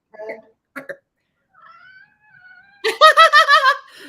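A pet cat chirps at a bird seen through the window, giving a few short, faint chirps and then a louder burst of rapid, rhythmic trilling chatter close by.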